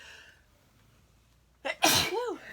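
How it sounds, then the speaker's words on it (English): A single loud, close sneeze breaks a quiet moment at a craft table where card stamping with glitter glue is underway, preceded by soft talk. "I feel like I'm going to sneeze."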